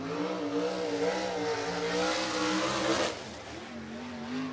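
USAC sprint car at speed on the dirt oval of Red Dirt Raceway, its engine a loud sustained roar with shifting pitch, rising to a peak and then fading away as it passes.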